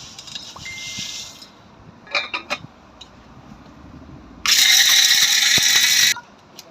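An electric grinder reduces almonds and herbs to powder: a brief whir and a few sharp clicks come first, then a loud, steady roaring burst of about two seconds that cuts off abruptly.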